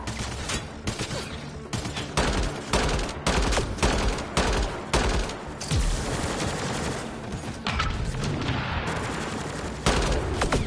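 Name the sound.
gunfire in the video game Mass Effect: Andromeda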